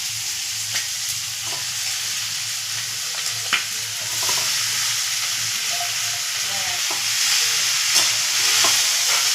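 Chopped bottle gourd frying and being stirred in a pan, with steady broadband sizzling, soft scraping stir strokes and occasional taps of the spoon against the pan, growing slightly louder partway through.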